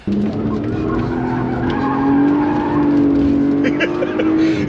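A rear-wheel-drive BMW 130i skids and drifts, its engine roaring steadily with tires squealing under load, loud and close for several seconds with no break.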